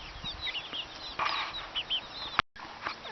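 Free range chickens begging for food make soft clucks and murmurs nearby, with a brief burst of wing flapping partway through.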